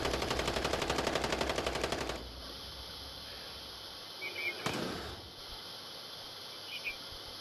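Rapid automatic gunfire in Call of Duty Modern Warfare battle royale rattles loudly for about two seconds, then a single sharp crack follows over quieter game ambience.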